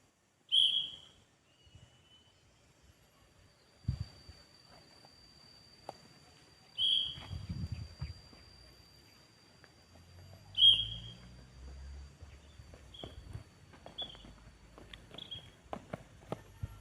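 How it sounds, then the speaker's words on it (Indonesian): Several short, sharp whistle blasts ring out at intervals as signals to walk, run and jump in a movement exercise, with soft footsteps and scuffling in between, growing busier toward the end. "Peluit pertama artinya berjalan, peluit kedua artinya berlari, peluit ketiga melompat."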